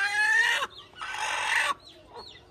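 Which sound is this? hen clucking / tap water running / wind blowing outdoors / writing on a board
hen clucking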